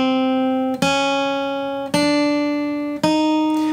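Guitar notes played legato, three sustained tones in succession, each ringing into the next at an even pace, clear and close.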